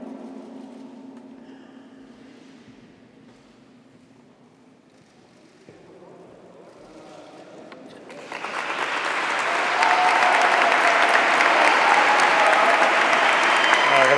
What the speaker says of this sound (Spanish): Gracias por el aplauso